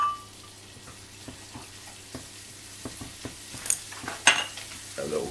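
Prawns fry in a hot pan on an induction hob, a low sizzle broken by scattered clicks and scrapes of stirring, with a few sharper bursts of spitting toward the end.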